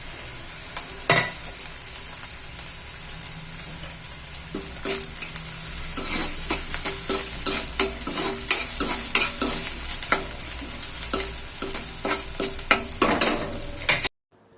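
Green chillies sizzle steadily in hot oil while being stirred in a pan during tempering for lemon rice, with frequent scraping and clinking strokes of the spatula over a continuous close-up fry.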